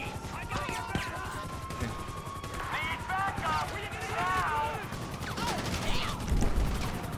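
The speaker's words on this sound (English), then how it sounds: "We can just fight it with explosive bullets." Explosive bullets fire in GTA 5 story mode as rapid, sharp gunshots with crashing impacts, mixed with shouting voices and whistling sounds, busy and loud throughout.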